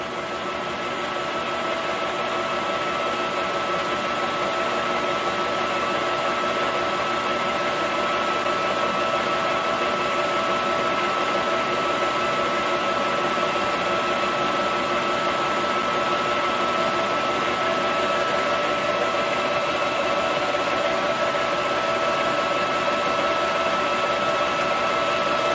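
Lathe taking a first cut on a Farmertec 288 chainsaw cylinder: a continuous, even mechanical whir and hum with faint tonal whine, steady and unchanging for the whole stretch, no voices.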